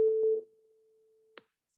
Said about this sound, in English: a very simple single frequency. And it's basically going to sound something like this.